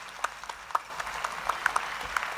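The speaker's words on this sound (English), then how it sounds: "Please give them all a big round of applause." Debate audience clapping for the jury, scattered individual claps with distinct sharp hits over a light, steady patter, moderately loud.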